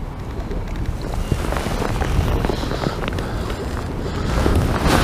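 Gale-force wind buffets the open bank at a fishing match, a loud continuous rumbling roar with gusty swells and scattered rustles and knocks.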